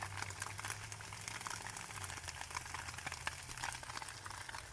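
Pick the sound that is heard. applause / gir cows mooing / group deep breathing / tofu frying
tofu frying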